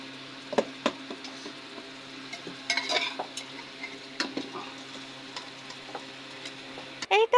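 Masala fries in a pan with a low sizzle, while a spoon scrapes and taps in scattered strokes and a louder clatter comes at the end.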